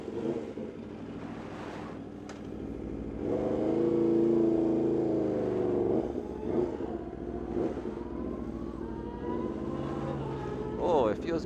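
Aprilia RSV4 RF superbike fitted with a loud GP muffler, its engine a steady droning roar that swells and eases over about ten seconds, with muffled talk beneath it.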